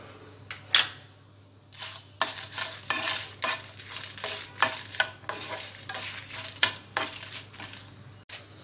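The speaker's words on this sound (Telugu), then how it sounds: "జీలకర్ర మెంతులు ఫ్రై అయిన తర్వాత ఎండుమిర్చి వేసుకోవాలి." Dried red chillies frying in hot oil with cumin and fenugreek, giving a close, steady sizzle broken by repeated stirring scrapes and light clinks of a utensil against the pan.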